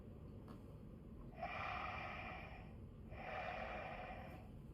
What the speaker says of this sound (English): When Lego Darth Vader breathes, it doesn't make the sound of Darth Vader breathing.